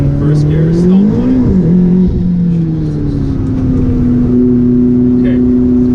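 A Cadillac ATS GT engine drones steadily after a thumb-operated downshift into first gear, its pitch rising and dipping briefly before settling into a loud, sustained note heard from inside the car.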